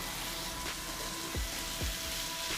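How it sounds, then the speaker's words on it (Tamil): Grated coconut being stirred and fried in a pan for a sweet poli filling, giving a steady soft sizzle with a couple of brief scraping strokes, close and alone without talk. "தேங்காய் சேர்த்து நல்லா கலந்து விட்டுருங்க"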